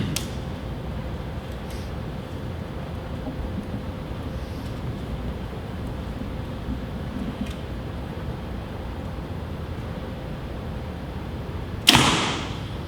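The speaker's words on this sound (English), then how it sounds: "we're going to go ahead and shoot a long shaft" A compound bow looses a bare-shaft arrow through paper, one sharp snap near the end after a long stretch of steady low outdoor hum, with a few faint ticks before it.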